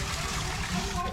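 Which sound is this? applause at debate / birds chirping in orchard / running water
running water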